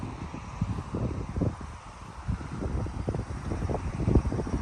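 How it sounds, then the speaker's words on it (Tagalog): Gusty summer wind in Japan buffets the microphone in uneven rumbling bursts, steady and close, with no voices present. "Mahangin at presko. Hangin, fresh air."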